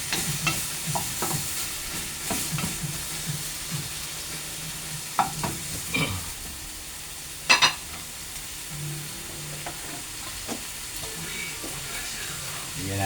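Food sautéing in a small amount of oil in a pan, with soft steady sizzling and occasional clanks and scrapes of stirring, plus a sharper knock near the middle; faint background noise throughout.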